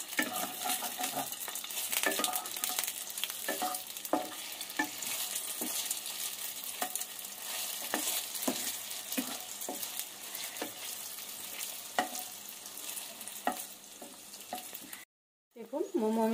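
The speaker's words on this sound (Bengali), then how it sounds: "एबार आमी एर मध्ये मोमोगुलो दिए देव, दिए एकटू फ्राई करे नेब।" Momos frying in hot oil in a wok for chilli garlic momo, a steady loud sizzle with scattered stirring clicks and scrapes throughout, broken by a brief silent gap near the end.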